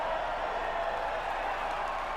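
Game crowd at a Formula 1 podium ceremony in a racing video game, a steady wash of distant cheering and applause that holds at an even level throughout.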